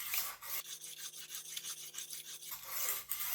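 Kitchen knife stroked back and forth across a coarse whetstone, a faint, quick series of gritty rasping strokes in an even rhythm, heard alone.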